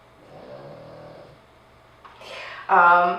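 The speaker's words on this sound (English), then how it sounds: "You may be hearing in the background my foster pug, Terry, snoring." A small pug snores softly in a slow rhythm, then a couple of louder snorting breaths come through near the end, with no talking.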